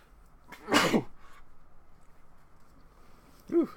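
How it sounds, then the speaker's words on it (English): Someone sneezes once, sharply and close by, in a quiet room. A short pause follows, then a brief faint vocal sound. "That's one of the first times I actually sneezed on camera while recording"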